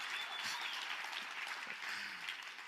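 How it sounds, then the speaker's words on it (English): An audience claps at a formal gathering: continuous dense applause from many hands, steady and moderately distant, with no voices standing out. "you could stand and clap a bit longer"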